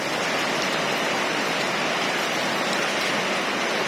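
Rain falls steadily on a car loaded with goods, a dense continuous hiss of drops drumming close by, alone and unbroken.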